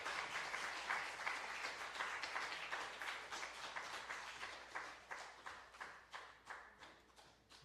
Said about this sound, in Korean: 우리 큰 박수로 우리 교수님 모시도록